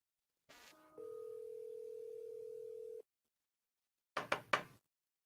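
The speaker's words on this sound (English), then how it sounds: "let me try to call him again" A telephone call to a real estate seller begins with a short blip, then a steady two-second dial tone that stops, followed after a pause by a quick cluster of clicks or tones.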